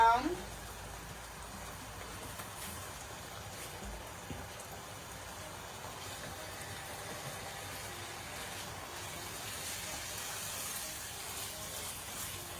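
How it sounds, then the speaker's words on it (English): Ripe plantains (amarillos) boil in a pot, giving off a soft, steady bubbling hiss that stays faint and continuous throughout, with no clear break or change. "See that amarillos are boiling."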